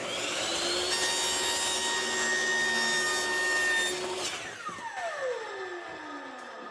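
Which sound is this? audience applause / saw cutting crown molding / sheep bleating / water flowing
saw cutting crown molding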